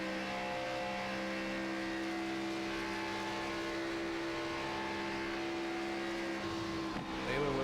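Race car engines in an e-sports racing game hold a steady, droning whine with layered tones throughout. Near the end the pitch dips and shifts as a driver works the pedal into a corner.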